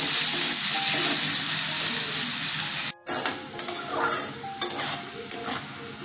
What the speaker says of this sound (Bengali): আলুটা ভাজা হয়েছে, তুলে নেব।